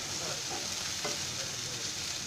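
Spices and masala, fennel seeds among them, sizzle and scrape steadily as they are stirred in a hot frying pan, a continuous close crackle with no talking.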